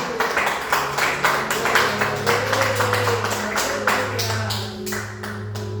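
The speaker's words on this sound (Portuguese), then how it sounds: "Uma salva de palmas para Jesus" Church congregation clapping in praise during a worship service, a loud, sustained round of many hands with a low musical drone underneath, tapering slightly toward the end.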